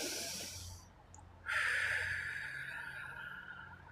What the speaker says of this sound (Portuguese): você pode fazer algumas respirações profundas também